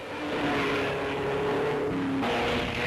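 Midget race cars blast around a banked board track, a dense, continuous buzzing engine roar with shifting pitch as several cars circle, loud and unbroken with no talking.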